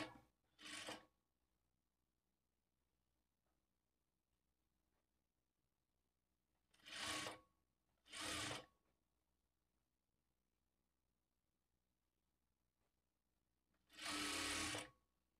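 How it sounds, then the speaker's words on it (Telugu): Sewing machine running a stitch along a straight-cut blouse neckline: four short, quiet bursts of whirring with long silent gaps between them, alone in the room. "ఇప్పుడు ఇదే స్టిచ్ మీద ఇంకొక స్టిచ్ వేసుకోవాలి."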